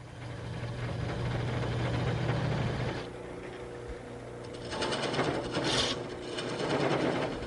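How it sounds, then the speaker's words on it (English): A skew chisel's point undercuts spinning wood on a lathe, giving a steady close rasping scrape with a low hum beneath, then a brighter, harsher cutting hiss in the second half. "I'll just undercut this slightly using the point of the skew, not the heel, the point."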